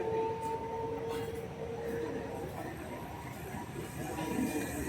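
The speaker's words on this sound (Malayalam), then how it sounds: "ആദ്യം നമ്മൾ വന്ന ട്രെയിൻ അതാ പോകുന്നു ഗൈസ്" A train pulls away from a station platform, its steady low rumble and a faint high tone running throughout, with talk in the background.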